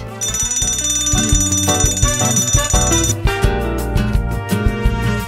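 A QTV retro TV-style speaker's built-in timer alarm goes off, a bright steady electronic ring sounding over a rhythmic background tune, loud and close, with the tone stopping partway while the music carries on.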